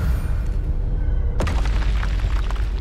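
A spell impact in the video game Hogwarts Legacy: one deep, loud boom bursts in about halfway through over a steady rumbling game backdrop, then a crackling, debris-like tail keeps going to the end.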